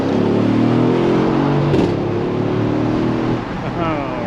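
A 2019 Mercedes-Benz GLS AMG 63 luxury SUV drives along, its engine humming steadily with a restrained exhaust note heard from inside the cabin, and a brief rise in revs near the end.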